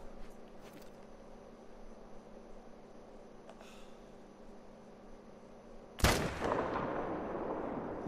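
A single loud rifle shot at fallow deer in a hunting video game cracks out after quiet ambience with faint ticks, then rolls away in a long, echoing decay.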